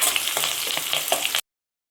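Chopped onion drops into hot oil with mustard seeds for a brinjal masala and fries with a loud, close, crackling sizzle that stops abruptly after about a second and a half.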